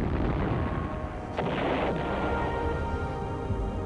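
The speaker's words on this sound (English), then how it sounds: "Divisions had their own artillery as well, mostly 105mm weapons" Artillery fire from 105mm guns at a Vietnam War fire base, with one sharp nearby blast partway through and the rumble rolling on over a dense, continuous battlefield noise background.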